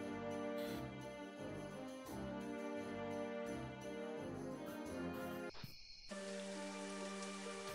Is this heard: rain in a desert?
yes